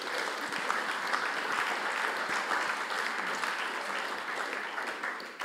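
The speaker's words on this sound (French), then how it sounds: "je vous demande aussi d'applaudir" Sustained audience applause at a French political party's summer university speech, a thick, even roar of many hands clapping, steady throughout and alone.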